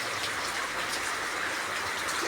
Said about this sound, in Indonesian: jelas begitu air ya mengucur dari atap itu sampai ke timba itu ya